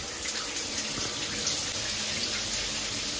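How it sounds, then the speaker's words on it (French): Shower water running steadily in a hotel bathroom, a dense continuous hiss and patter, close and fairly loud with no talk. "On commence par la douche."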